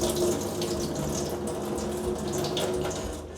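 Drinking water pours steadily into a water filter in a home in Japan, a continuous close splashing stream that runs without pause and without talk.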